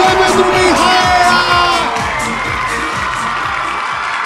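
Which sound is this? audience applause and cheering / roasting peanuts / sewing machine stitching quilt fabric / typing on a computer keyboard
audience applause and cheering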